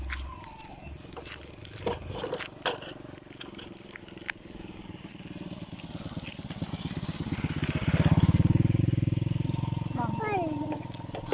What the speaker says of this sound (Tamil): ரோட்டில் பைக் வருது.